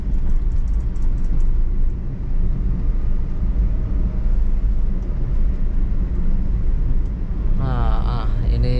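Steady low engine and road drone from a Toyota Calya car cruising in fourth gear on a city street, continuous and fairly loud throughout, with a brief brighter rising whine near the end.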